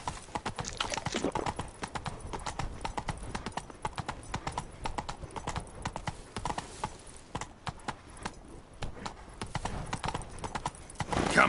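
Hooves of Roach, the horse in The Witcher 3, clip-clop in a steady trotting rhythm, close and continuous throughout, with no one talking over them.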